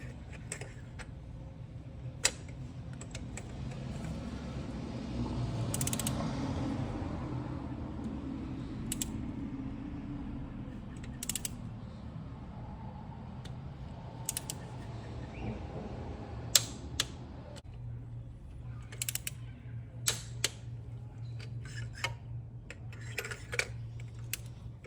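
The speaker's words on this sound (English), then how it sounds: "So we're going to go ahead and torque the spark plugs now." A torque wrench set to 16 foot-pounds tightens spark plugs on a 2016–2021 Honda Civic, giving scattered sharp clicks over a quiet, low background hum.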